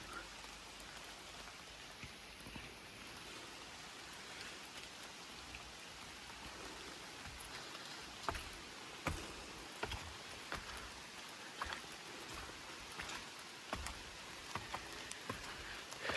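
Steady rain falls with a soft, even hiss, and scattered louder drops patter on a nearby surface.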